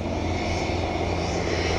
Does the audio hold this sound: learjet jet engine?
yes